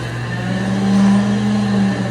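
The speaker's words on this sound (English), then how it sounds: "In the background, you guys can hear him making some other blizzards as well." A Blizzard ice cream mixer blends mint brownie Blizzards in the background, giving a steady, unbroken motor hum with a clear tonal whine that holds through the whole moment, with no talking.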